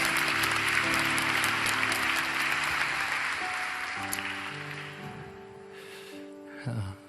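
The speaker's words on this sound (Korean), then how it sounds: "우리 김은영 선교사님 격려와 축복의 박수를 다시 한번 보내주시겠습니다" Warm applause from a church youth worship congregation honours a missionary, a steady wash of clapping that fades gradually while sustained keyboard chords play beneath it, ending with a brief louder rustle.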